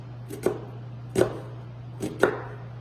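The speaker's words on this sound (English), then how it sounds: "So we're going to start chopping" Knife chopping food on a cutting board while preparing spaghetti, with several sharp, evenly spaced chops heard close up over a steady low hum and no talking.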